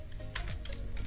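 Quiet keystrokes on a computer keyboard while entering a switch command, a short run of soft taps close by with no speech.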